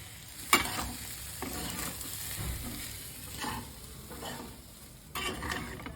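Vegetable fried rice stir-fried in a pan with soy sauce, vinegar, chili powder, salt and spice powder gives a soft, steady sizzle with occasional scraping stirs and a brief utensil knock.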